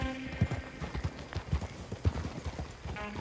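Stagecoach horses in Red Dead Redemption 2, hooves clip-clopping in a steady, brisk rhythm as the team approaches, moderately close, with a faint whinny and some background game ambience.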